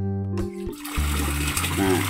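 Water runs from a tap in a farm villa bathroom, a steady close splash and gush, with someone speaking over it.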